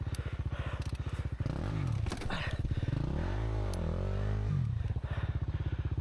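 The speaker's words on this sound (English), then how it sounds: "gave it one final good kick and got started" A flooded Yamaha YZ250 two-stroke dirt bike at a muddy hare scramble, kicked over until it fires and settles into a loud, steady idle with a throaty rumble; brief clattering from the kick mechanism, no talking.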